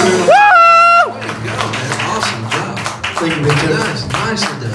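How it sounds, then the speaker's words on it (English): An audience in Memphis applauds after a singer's rendition of a song, a loud sustained round of dense clapping that follows a held vocal note, with a few cheers mixed in. "Everybody give him a huge round of applause."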